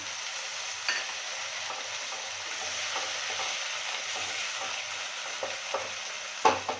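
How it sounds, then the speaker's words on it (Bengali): Vegetables for upma cook in a pan after water is added, a soft steady sizzle and bubbling with occasional spoon clicks and light stirring taps, moderately near and without talk. "এবারে আমি এটার মধ্যে একটু পরিমাণে জল দিয়ে দেব সবজিগুলো সেদ্ধ হওয়ার জন্য।"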